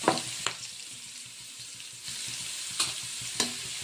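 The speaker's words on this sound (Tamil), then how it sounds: "அதெல்லாம் சடசடன்னு வெளியிட்டு பச்சை வாசம் போக நல்லா வதக்கிடணும்." Pirandai (adamant creeper) sautéing in a pan for kuzhambu, a steady close sizzle and crackle with a few sharper scraping stirs of a spoon against the metal, no talking.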